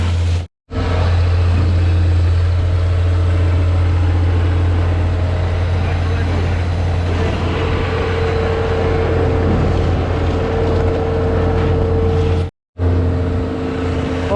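Cooling fan on a concrete truck at an ICF basement pour, a loud, steady mechanical drone with a strong low hum running continuously and close by, broken only by two brief dropouts.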